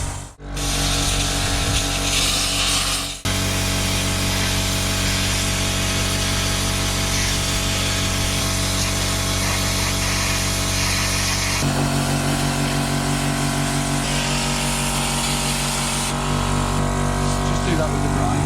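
Angle grinder cutting through the steel inner skin of a sailing yacht's transom, a loud continuous whine and grinding rasp that runs the whole time with a brief break near the start and shifts in pitch as the cut changes.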